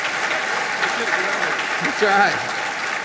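An audience at a conference gives steady applause for General James Amos, Assistant Commandant of the Marine Corps, a broad hiss of clapping throughout while someone speaks briefly over it near the end.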